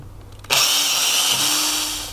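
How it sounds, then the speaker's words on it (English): A handheld power drill revs up and bores straight through polyboard and steel while building a lower unit service stand, a sharp whining grind that starts abruptly and holds steady and loud to the end, with no talking. "So I'm just going to hold it down and drill right through the poly and through the steel."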